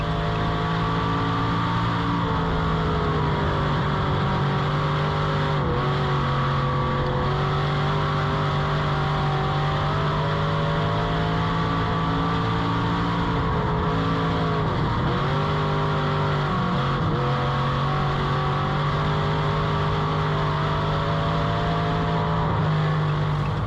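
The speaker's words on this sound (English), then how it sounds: "So there's a short clip of us on track at Bristol Motor Speedway" Race car lapping Bristol Motor Speedway, heard from on board as a loud, steady engine drone that holds high revs, with brief dips and recoveries as it runs the banked short track.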